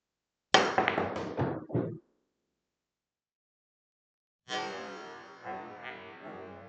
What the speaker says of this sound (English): I want to try to draw the cue ball off of the 1 ball after jumping over the 2 and the 3